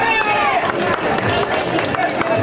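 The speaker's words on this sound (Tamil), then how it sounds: "எல்லாரும் கைதட்டு கொடுக்கலாம்." An audience at a Tamil stage drama claps and cheers in a loud, busy burst of crowd noise, with voices mixed in throughout.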